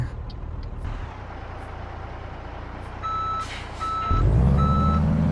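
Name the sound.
truck reversing to trailer, video game Euro Truck Simulator 2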